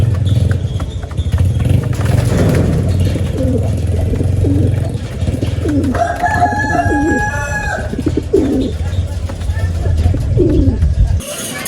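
Racing pigeons cooing on a loading day for a final-lap race in Santa Ana, Cagayan, mixed with other birds and a rooster crowing, under someone talking.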